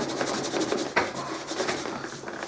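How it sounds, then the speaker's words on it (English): Thick, pasty antique finish rubbed by hand into a leather archery quiver, producing a steady soft rasping and rubbing with repeated strokes and one sharper scuff, close and moderately quiet. "It comes on with a consistency something like Vegemite, so it's quite a thick, pasty kind of stuff, and you just really rub it in."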